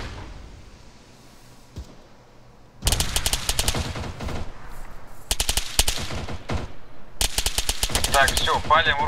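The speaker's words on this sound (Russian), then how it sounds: "прям по мне кто-то стреляет" Automatic gunfire in the video game Arma 3 on a Tushino server starts after a quiet stretch, then comes in loud, rapid bursts separated by brief gaps, with faint voices in the background.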